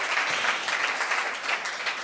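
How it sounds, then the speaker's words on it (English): Steady applause from an audience at a startup competition prize ceremony, dense even clapping sustained throughout at moderate loudness. "And good round of applause."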